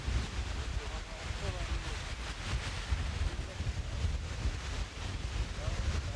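Strong wind on a Canadian coast buffets the microphone in a constant roar, with a wash like surf beneath it.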